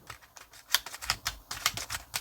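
A new cordless screwdriver's gearbox clicking as it is abruptly stopped, giving a rapid series of light, sharp ticks and rattles, close and fairly quiet, with no voice over it.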